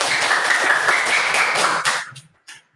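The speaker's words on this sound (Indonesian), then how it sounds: "kita tepuk semangat untuk diri kita sendiri" A classroom of children clapping a rhythmic spirit clap together, loud, fast and in unison, then stopping abruptly with a couple of stray claps at the end.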